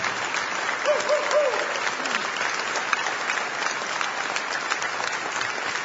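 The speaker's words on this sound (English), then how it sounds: "give Skip a great round of applause and welcome him to the podium" A luncheon audience applauds a football coach, Skip Holtz, at a signing day event: dense, steady clapping fills the whole stretch at even loudness, with a brief voice briefly audible early on.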